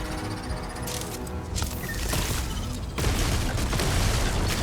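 Gunfire in the video game Starfield comes as a dense burst of booming shots over a loud game background, growing heavier toward the end, with no one speaking.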